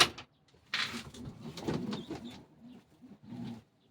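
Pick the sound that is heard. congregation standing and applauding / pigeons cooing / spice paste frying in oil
pigeons cooing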